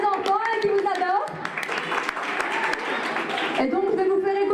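Audience applause swells into a steady wash of clapping for a couple of seconds, framed by a voice and music before and after.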